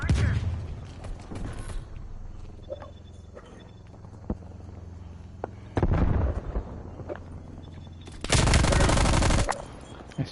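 Stun grenade going off in a console shooter game, with loud sharp bursts and booms at intervals amid gunfire-like bangs and mechanical clatter over a steady rumbling background.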